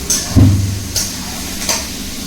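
Chicken frying in a pan over high flame, a soft sizzle with a few stirring scrapes and clinks, close and moderately loud with no talk.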